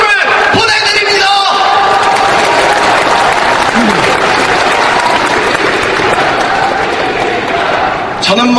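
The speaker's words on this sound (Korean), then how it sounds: "뜨거운 박수를 보내드립니다" Warm, sustained applause from a large audience at a political party leadership convention, dense and loud throughout with scattered crowd shouts mixed in.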